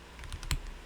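Quick keystrokes on a computer keyboard as a short terminal command is typed, a handful of light close clicks with one sharper press near the end, with no voices.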